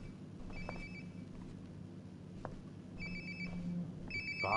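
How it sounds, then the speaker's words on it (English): A mobile phone rings nearby in the video game Life is Strange: Before the Storm, giving several short tonal bursts over a quiet hum of game ambience, with no one talking. "Sounds like my phone is definitely nearby."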